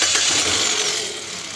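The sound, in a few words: Mitsubishi Xpander engine being started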